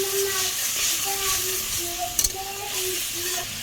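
Pointed gourd frying in oil in a pan while being stirred: a steady sizzle and hiss with soft scraping, close and moderate in level, with a brief clatter near the middle.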